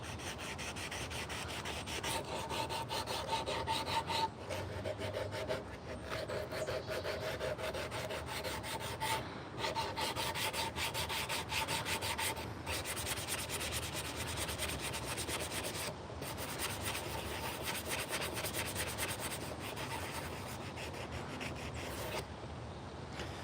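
Sandpaper rubbing steadily across a hand-carved wooden teaspoon with a natural curve, a continuous close scratchy rasp in long back-and-forth strokes with no talking.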